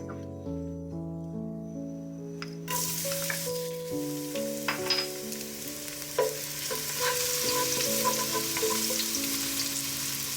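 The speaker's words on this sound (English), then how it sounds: "Then we will start sauteing. There we begin with the garlic." Garlic sautéing in hot oil for Filipino pork rib kaldereta: after a quieter opening, a loud, steady close-up sizzle sets in and continues, with occasional stirring scrapes and clinks over it.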